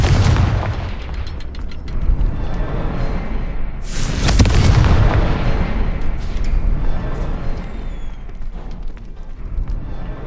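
Confringo blasting spells exploding in a Hogwarts Legacy battle, a dense run of booming blasts with one especially loud burst near the middle, continuous and close.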